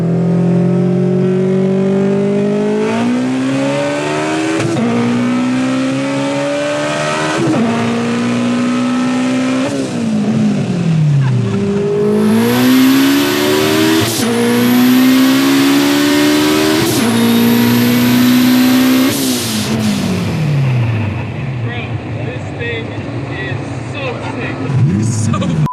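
A 900 horsepower four-door turbocharged all-wheel-drive Honda accelerates hard and loud, its engine note climbing through repeated gear changes with rising pitch sweeps before easing off near the end.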